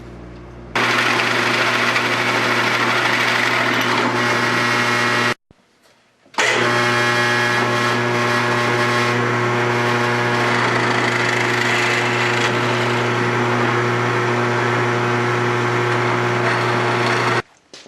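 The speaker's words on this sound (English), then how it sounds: "Okay, we've got our holes drilled, and these bolts will go in there like that." A power drill bores holes into wood for bolts with a loud, steady high whine, in two long runs split by a short pause, close up with no talk.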